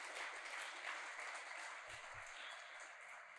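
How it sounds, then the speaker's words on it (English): Applause from an audience at a student writing, art and video contest awards event, a steady broadband patter of many hands clapping at a fairly even level throughout, soft and somewhat distant. "can we get another round of applause for our winners here today?"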